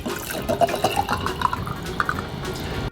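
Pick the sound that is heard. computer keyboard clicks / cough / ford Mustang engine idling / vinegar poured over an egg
vinegar poured over an egg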